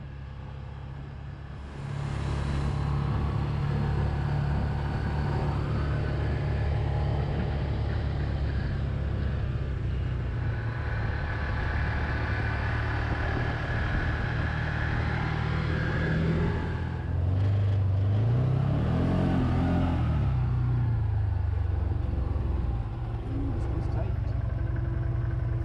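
A Can-Am Commander side-by-side engine drones steadily along an old rail bed trail on Cape Breton Island's Celtic Shore, a continuous close rumble that swells briefly as it revs, with wind noise over the top.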